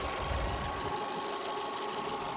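A Fiat Egea Cross with a naturally aspirated engine idling, a steady, even mechanical hum and rumble heard close and alone throughout, with a slightly heavier low rumble at the start.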